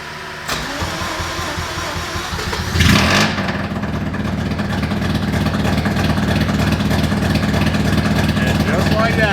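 A Mazda FC RX7 rotary engine cranks with a sharp burst, catches and settles into a loud, steady idle close by, with a brief rev as it fires up.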